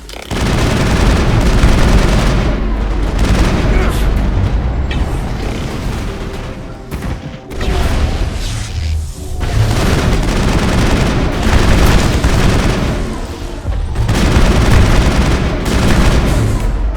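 A firefight in the video game Mass Effect, with dense, continuous gunfire and automatic bursts mixed with heavy booms. The shooting is loud and close, with brief lulls, and runs throughout.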